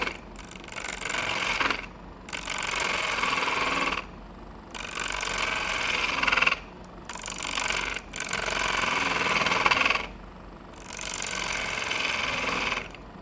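A skew chisel cuts into spinning pecan wood on a lathe, stripping the bark in bursts of loud, close rasping scrapes separated by short pauses, each cut lasting one to three seconds.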